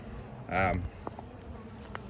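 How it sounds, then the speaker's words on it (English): Honey bees in a hive box drone in a short, close swell of buzzing that rises and fades, followed by quieter scattered buzzing and a few faint knocks. "there's still a lot of bees in this box"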